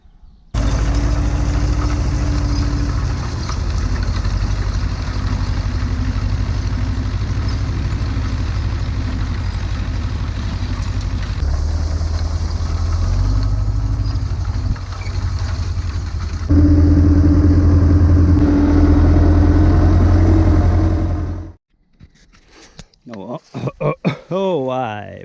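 Tractor engine idling steadily during hay season, a loud continuous low rumble that holds for about twenty seconds, with a shift in pitch partway through, before cutting off abruptly and leaving scattered light noises.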